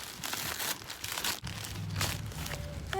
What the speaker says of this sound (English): Since I can't find my scissors, I'll just rip it.